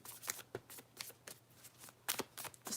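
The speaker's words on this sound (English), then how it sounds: "I'm literally shuffling these cards." A deck of tarot cards is shuffled close by in quick riffling bursts, about a dozen crisp flutters with brief pauses between them.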